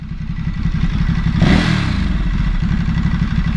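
Stock exhaust on a 2022 Ducati Supersport 950S motorcycle revving up sharply mid-ride, a loud, close engine rising to a peak around the middle and then holding a steady, throaty drone.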